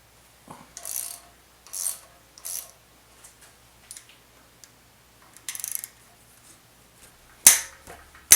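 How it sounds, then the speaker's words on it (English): A 1/4 inch ratchet turns a metric 8 mm bolt on an LS engine during cam removal, giving short bursts of close clicking separated by pauses, with a sharper clank near the end. "I'm going to try with a 1/4 inch ratchet and see"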